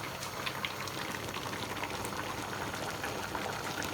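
Atama soup with spinach and egusi simmers in a pot, a steady soft bubbling and sputtering that stays faint and even for a few seconds, with no voices.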